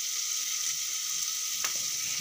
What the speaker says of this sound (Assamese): সেইকাৰণে সেই সৰু সৰু আলুগুটিকে ভাজিছোঁ আৰু